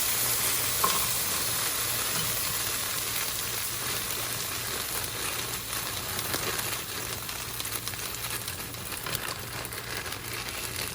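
Red and green peppers with onions sizzle steadily in a hot skillet over a raised flame, a constant bright frying hiss with occasional light stirring scrapes, no voices.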